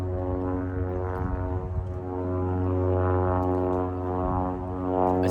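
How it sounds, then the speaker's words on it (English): A propeller airplane drones overhead with a steady low hum that swells gently and holds throughout, loud and continuous with no talking. "Sorry about the airplane."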